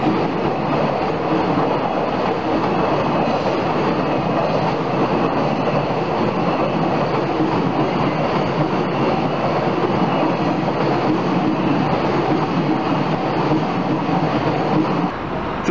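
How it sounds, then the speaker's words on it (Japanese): A locomotive rumbles steadily past nearby at a freight line level crossing in Osaka, a dense continuous roar of rolling wheels and rail noise with no voices. "機関車が通過し始めたところになります。"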